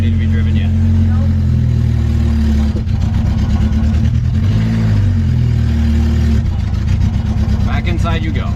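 A car that is not yet fit to drive, with no power steering, runs its engine in a loud steady hum that rises and falls with revving, while a voice talks over it.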